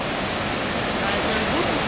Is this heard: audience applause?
no